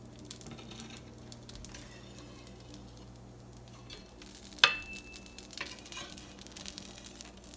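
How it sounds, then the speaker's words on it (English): Sea bass patties fry on a griddle with a soft, steady sizzle, faint and close, interrupted by one sharp metallic clink partway through. "Make it into little patties, and then we're just going to put it right here until it's done cooking."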